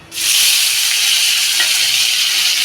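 Boiled potatoes hit a hot oiled pan with a sudden loud hiss that swells into a strong, continuous sizzle, close and alone, with faint stirring scrapes beneath.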